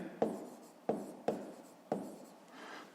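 A pen scratches an asterisk onto paper in four short quick strokes, close and faint in a quiet room, with no voices.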